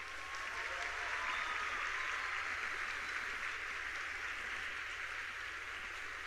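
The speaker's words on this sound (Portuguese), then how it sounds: "Dá uma salva de palmas para isso" A crowd at a wedding-themed church sermon applauds steadily, a dense patter of clapping that holds at an even level from start to finish.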